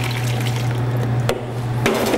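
Watermelon juice pressed with a ladle through a fine cone-shaped chinois runs in a steady close liquid trickle and splash, with a couple of brief clinks of metal along the way.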